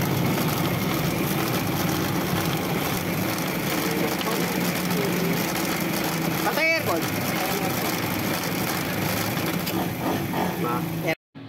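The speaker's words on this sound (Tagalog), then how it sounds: "Auxiliary fan motor ang diferensya niya." A Suzuki Ertiga's engine bay with a faulty auxiliary fan motor gives off a steady, continuous mechanical whir and hum that runs unbroken for about eleven seconds, broken only by a brief sharp noise near the middle.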